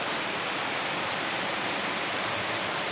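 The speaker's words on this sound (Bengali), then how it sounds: "আজকে কীরকম বৃষ্টি পড়ছে, পুরো অন্ধকার হয়ে একেবারে বৃষ্টি পড়ছে" Heavy rain pouring down steadily, a dense, even hiss of drops drumming on surfaces, loud and unbroken with no voices.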